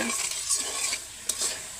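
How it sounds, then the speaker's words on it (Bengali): Potatoes fry in a wok with a soft, steady sizzle while a utensil stirs and scrapes against the metal, quiet and close, with one sharper clink near the end. "এই যে দেখছেন আলুগুলো সুন্দর করে ভেজে নিচ্ছি"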